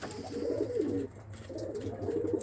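Pigeons coo softly outdoors in two rounded, throaty phrases separated by a brief gap. The sound is faint and low over a quiet background hum, with no speech.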